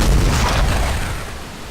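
Video game rocket launcher effect played back in Wwise Soundcaster: a loud, dense low roaring rumble with hissing noise that fades slightly over under two seconds, no voices.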